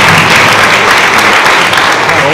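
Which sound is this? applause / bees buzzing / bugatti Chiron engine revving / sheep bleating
applause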